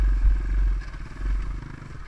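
A 250cc enduro motorcycle rides with a steady, loud engine rumble and churning low drone, with some clatter and scraping mixed in throughout.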